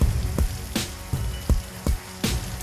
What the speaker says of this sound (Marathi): विजांच्या कडकडाटासह मुसळधार पावसाला सुरुवात झाली।